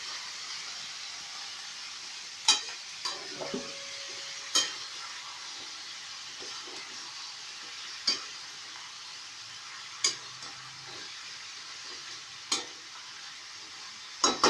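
Masala pumpkin fries in a pan with turmeric and coriander powder, a steady soft sizzle broken by a string of sharp spoon scrapes and taps as it is stirred now and then.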